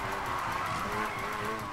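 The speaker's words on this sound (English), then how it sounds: "you can hear the engine go ring, ring, ring, ring" A car engine in Need for Speed Heat pulses with rapid throttle feathering during a drift, the revs rising and falling in quick repeated surges over tire noise, loud and continuous.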